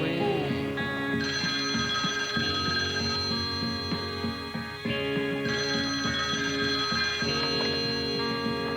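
A telephone bell rings in repeated bursts, loud and close, and keeps going in a steady pattern with no one speaking.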